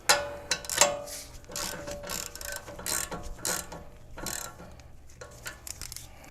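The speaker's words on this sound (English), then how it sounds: "Get your castle nut on. Gonna go ahead and tighten this down." Ratchet clicking in uneven bursts while a castle nut is run down on the upper ball joint stud of a 1996–2002 third-generation Toyota 4Runner, close and moderately loud with short metallic bursts and pauses.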